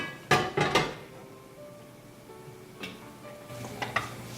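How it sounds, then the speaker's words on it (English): A frying pan set down on a gas stove with a couple of sharp metallic clanks near the start, followed by quieter knocks and light rattling as it settles. "Start gas high, and I'll bring fry pan."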